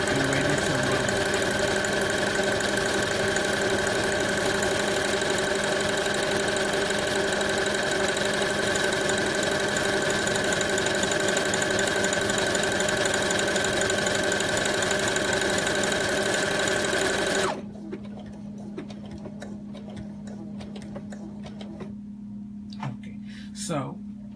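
A sewing machine stitches a buttonhole with a one-step buttonhole foot, a steady rapid mechanical whir running loud and even for most of the stretch, then stopping abruptly into near quiet with a faint hum.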